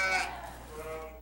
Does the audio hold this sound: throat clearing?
no